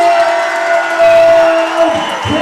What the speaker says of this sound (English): big round of applause for both of our fighters